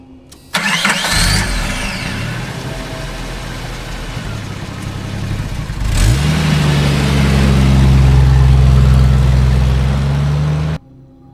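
A car engine cranks and catches, runs rough for a few seconds, then revs up with a rising hum and settles into a steady drone as the car pulls away, loud and close, ending abruptly.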